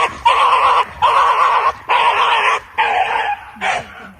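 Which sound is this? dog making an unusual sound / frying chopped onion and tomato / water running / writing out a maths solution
dog making an unusual sound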